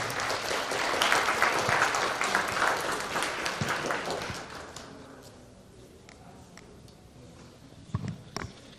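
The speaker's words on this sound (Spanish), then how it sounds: "Lo recibimos con un fuerte aplauso y siempre bienvenido a su casa" Audience applause at a book presentation for a magistrate at the university, full and loud at first, then tapering off to scattered claps and quiet room noise, with a few late claps.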